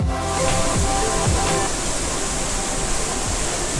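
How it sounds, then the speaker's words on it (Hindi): Water from a waterfall about 10 meters high inside Robber's Cave in Dehradun roars steadily, a loud continuous rushing wash that fills the whole stretch with no voices. "यहाँ सबसे ऊंचा झरना 10 मीटर से गिरता है, जहाँ पानी का बहाव और शोर काफी तेज आपको सुनाई देगा"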